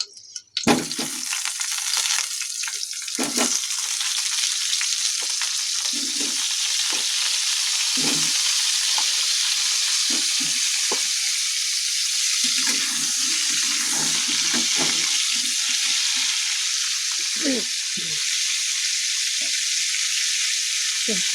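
Curry frying in a pan gives a loud, constant sizzle, with repeated scraping and stirring knocks from a spoon against the pan throughout.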